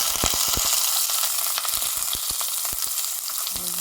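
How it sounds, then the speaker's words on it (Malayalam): Sliced onions sizzle steadily in hot spiced oil in a pan, a dense close frying hiss broken by brief stirring clicks, with no voices. "നന്നായിട്ട് ഫ്രൈ ചെയ്തെടുക്കാം."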